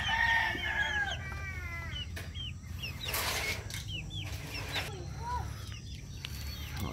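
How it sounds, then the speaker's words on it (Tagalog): Native Filipino chickens on a rural farm cluck and crow together, several calls overlapping close by against a steady outdoor background with no clear talking. "Tagalog na manok."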